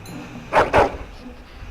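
A hound in the Dragon Age video game gives two quick close barks in a row, loud against a low background murmur.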